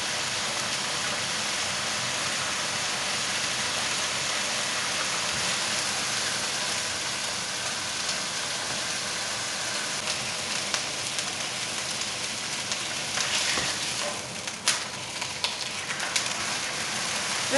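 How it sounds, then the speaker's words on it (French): A côte de boeuf sears in hot oil in a pan, making a loud, continuous, even hiss close up, with a few small crackles and pops near the end. "Mon huile est chaude, donc je vais venir rôtir ma côte de bœuf."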